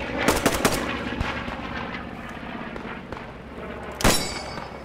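Gunfire in the World War II shooter game Squad 44: a quick burst of loud, close shots at the start, scattered shots through the middle, then one sharp, loud blast near the end.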